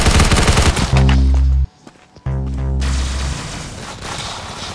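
Rapid gunfire in the game Arsenal, loud bursts of automatic shots that stop briefly, then resume as a long sustained stream, close and dominant with no talking.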